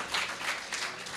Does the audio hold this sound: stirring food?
no